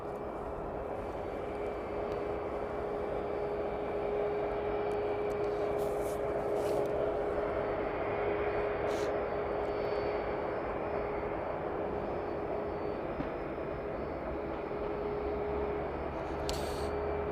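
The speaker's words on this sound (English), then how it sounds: "let's get the ATR as it makes its way down now" An ATR turboprop airliner descends to land at East Midlands Airport, heard as a steady, fairly faint engine drone with a faint tonal hum that holds unchanged throughout.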